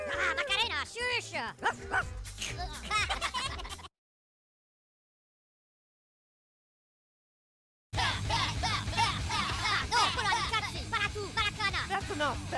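A cartoon puppy yaps and barks in short bursts amid busy voices and background music, loud and close, with a stretch of complete silence in the middle before the lively mix returns.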